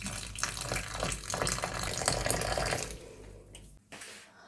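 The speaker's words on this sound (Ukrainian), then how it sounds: "також заливаємо гарячою водою чорну чорнослив" Hot water pours steadily over prunes for about three seconds, a broad rushing splash, then tapers off and stops, followed by faint clinks.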